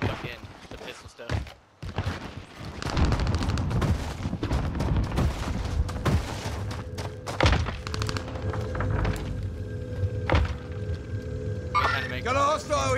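Gunfire and explosions in Call of Duty Vanguard Warzone: repeated heavy thuds and booming impacts, fairly close, under ongoing game noise, with players talking over it.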